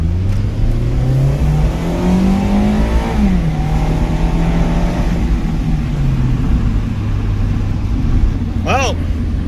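A Mazda Miata RF in sport mode with traction control off and the roof down accelerates, its engine note rising through the revs and then dropping at a shift before settling into a steady drone, loud and close from inside the car.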